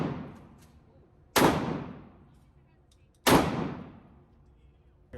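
A 12 gauge shotgun fires two loud, sharp blasts at a gun range, about two seconds apart, each with a long echoing decay, and the start of a third shot comes at the very end.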